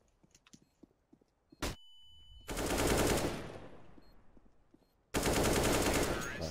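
AK rifle firing in CS:GO, two long bursts of rapid automatic gunfire, loud and close, separated by a brief pause, preceded by footsteps, a sharp single shot and a ringing tone, no talk.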